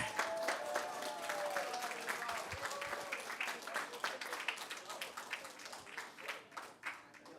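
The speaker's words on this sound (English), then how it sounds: "a round of applause for your champions of fall 2022" Crowd applause at an esports championship for the winning middle school Rocket League team: dense, continuous clapping throughout, moderately loud, with faint voices mixed in.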